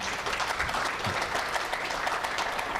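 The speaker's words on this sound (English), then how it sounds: "A round of applause real quickly for our sharks." Studio audience applause for the sharks at a Shark Tank event, a steady dense burst of clapping filling the whole short stretch without talk.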